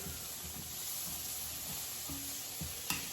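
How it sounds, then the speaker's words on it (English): Pork renders in a pan over medium-high heat for collard greens, giving a steady soft sizzle with faint stirring taps and a small clink near the end. "we got the pork just cooking up, starting to render"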